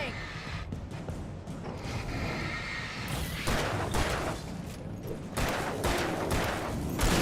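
Gunfire from Alan Wake Remastered, a run of loud, sharp shots fired in quick bursts and closely clustered, mixed with game sound and voices talking.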